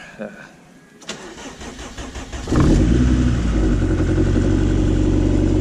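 A right-hand-drive Honda Civic wagon engine cranks a few times, catches, and then settles into a loud, steady running rumble.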